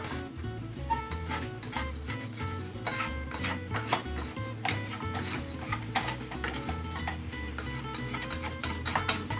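A stand mixer works pizza dough ingredients with a rhythmic thumping and clacking as the dough knocks around the bowl, close and steady, with no talk.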